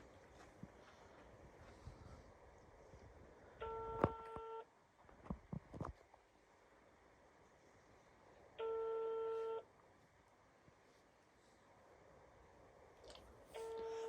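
Phone ringback tones sound over a speakerphone, two or three spaced beeps, amid faint room noise and a few clicks.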